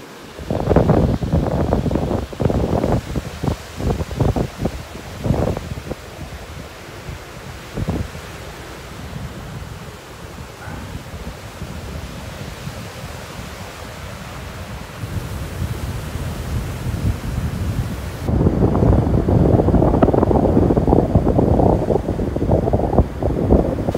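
Strong wind buffets the microphone on a beach in North Naples, Florida, a steady broadband rush that dips midway and then surges louder and fuller near the end, with occasional low thumps of gusts hitting the mic.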